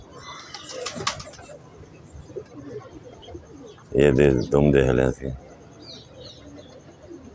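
High-flyer pigeons coo on a rooftop in Lahore, two loud close bursts of throaty cooing standing out over a quieter background of voices and scattered noise.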